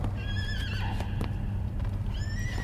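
A horse neighs and whinnies with hooves clip-clopping behind it in an audio drama about survivors and infected, set around a captive horse; the whinnies rise near the start and again at the end over a steady low rumble.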